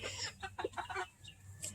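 An Araucana chicken clucks in a quick series of soft, close clucks, then a brief higher call at the end, with no talking.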